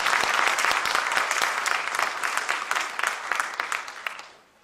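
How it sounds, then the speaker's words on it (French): An audience applauds at a French-language excellence awards ceremony, a dense steady roar of many hands clapping that thins and fades out toward the end. "Applaudissez-vous."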